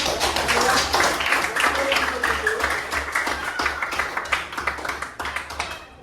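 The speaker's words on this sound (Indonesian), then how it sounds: "Tepuk tangan." Students in a classroom clap for classmates' answer, a lively patter of hands that gradually thins into scattered, sparser claps, with some talk underneath and a low steady hum throughout.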